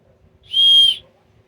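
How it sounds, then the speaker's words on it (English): A survival whistle from a Menards survival kit gives a single shrill, steady blast lasting about half a second, loud and close, with quiet room noise before and after. "This I assume to be a survival whistle."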